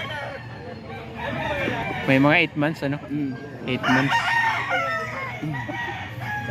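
Roosters at a banded gamefowl farm in San Jose del Monte, Bulacan, crow repeatedly near and loud, their calls rising over someone talking and a steady farmyard background.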